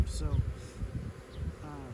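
A honeybee swarm buzzing around a home beeyard, a steady insect hum with brief high whines from bees passing near, under a single short spoken word.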